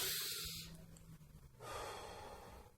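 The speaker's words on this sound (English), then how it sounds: "Take two deep breath. One more time." A person takes a deep breath during a focus exercise: a loud, long inhale followed by a quieter pause and then a long, steady exhale, close up with no talking.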